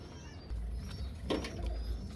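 Teddy pigeons, a pair let loose in a cage, coo softly at close range with low, quiet throaty calls, along with a brief rustle or flutter of movement.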